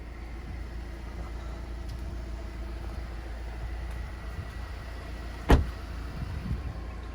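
An 11-year-old car's door shuts once with a single solid clunk, close by and fairly loud, over steady outdoor rumble and wind noise.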